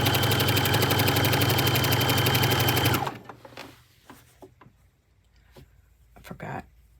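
A domestic sewing machine quilts a finished quilt, running with a fast, loud, even stitching rhythm for about three seconds, then stopping, leaving soft handling clatter and quiet speech.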